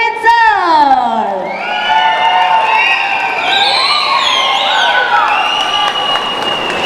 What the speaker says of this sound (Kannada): ನಿಮ್ಮೆಲ್ಲರ ಪ್ರೀತಿಯ ಚಪ್ಪಾಳೆಯೊಂದಿಗೆ ಸ್ವಾಗತಿಸಿ ನಮ್ಮೆಲ್ಲರ ನೆಚ್ಚಿನ the one and only Ramesh Arvind sir